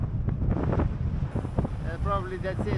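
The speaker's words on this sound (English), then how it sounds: "Very windy. Against wind all day." Steady wind buffeting a microphone during a bikepacking ride on the EuroVelo 1 route, a low broadband rumble running throughout, with a voice briefly speaking over it.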